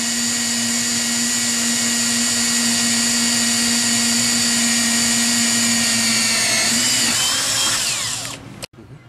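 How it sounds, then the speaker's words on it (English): A power drill bores a pilot hole for mounting a rollerblade wheel while a steady rest is being built. The loud, continuous motor whine holds steady for about seven seconds, drops in pitch, and then spins down and stops. "I'm going to drill a pilot hole here"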